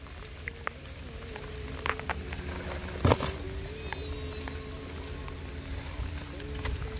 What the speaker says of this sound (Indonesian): Hujannya tiba-tiba aja.